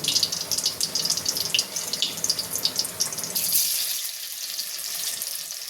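Spiny gourd (kakrol) pieces fry in hot oil with a steady, bright, crackling sizzle. The sizzle is loud early on, then settles into a softer, even hiss.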